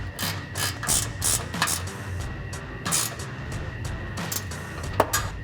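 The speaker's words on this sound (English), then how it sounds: "we're going to grab our 13 millimeter ratcheting wrench" 13 mm ratcheting wrench tightening a mounting bolt for drop steps on a Jeep Wrangler JL, giving quick repeated ratchet clicks in short strokes, close and clear, over a low background hum.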